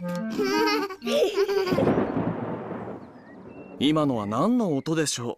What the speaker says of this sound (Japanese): 雷の音よ。 この音がしたら嵐が来てたくさん雨が降るの。